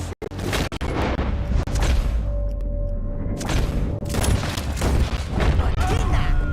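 Gunfire during a Red Dead Redemption 2 shootout in Rhodes: loud, booming shots, a close burst at the start followed by sustained heavy firing and echoing blasts, with game dialogue briefly mixed in.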